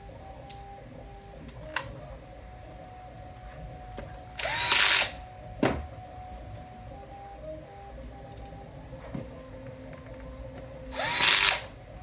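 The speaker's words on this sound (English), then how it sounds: "And then 1 screw on either side to lock that rod in place." A power screwdriver drives screws to lock an aluminum rod in place, two short whirring bursts several seconds apart with faint ticks and clicks between them, close-up in a quiet room.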